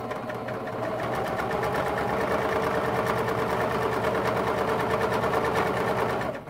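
Sewing machine running steadily while stitching a quilt seam, a continuous rapid mechanical whir with dense needle clatter, close and loud throughout with no talking.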